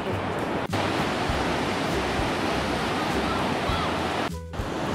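Ocean surf washes continuously onto a smooth sandy beach at Manuel Antonio, a steady broadband roar with brief dips, near and fairly loud.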